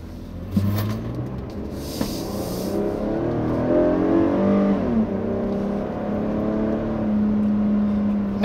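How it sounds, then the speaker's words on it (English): A 2016 Toyota Highlander Platinum's 3.5 liter V6 revs hard under acceleration, its engine note climbing in pitch through the gears with a steady, loud drone and no talking. "I only do this for demonstration purposes so you guys can hear the engine."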